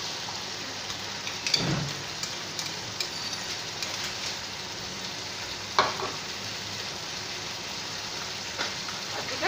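Ridge gourd frying in a pan with poppy seed paste added, a steady close sizzle and crackle running throughout, with a couple of louder spatters or stirring knocks along the way.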